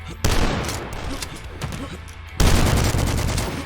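Gunfire in the game Dusk, two loud bursts of rapid shooting with a continuous rattling barrage between them.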